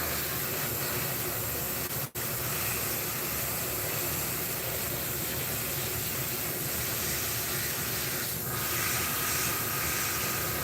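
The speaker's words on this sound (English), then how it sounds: "You're spraying really thin." Continuous airbrush or spray-can hiss while painting Hot Wheels train model cars, a steady close spray sound with one brief break partway through.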